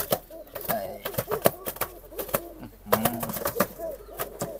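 Domestic pigeon on a farm giving low repeated coos with sharp bursts of wing flapping and scuffling as it is handled close up, alongside other farm pigeons and Muscovy ducks, with a person speaking briefly.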